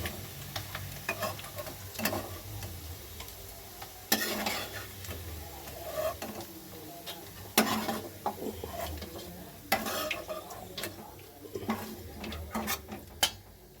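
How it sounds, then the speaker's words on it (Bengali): Paneer cubes fry in oil in a pan over lowered gas, a low steady sizzle broken by sharp irregular clicks and scrapes of a utensil against the pan, with no speaking. "এই যে পনিরগুলো আমার ভাজা হয়ে গেছে।"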